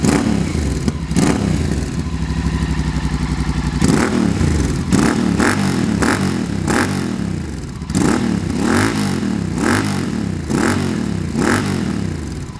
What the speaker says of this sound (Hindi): पहले सुनते हैं विद डीबी किलर कैसा साउंड करता है एग्जॉस्ट।